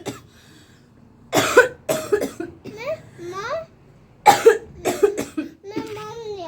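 A woman coughs in several sharp, close bursts, with someone talking and babbling between and around the coughs in a home setting.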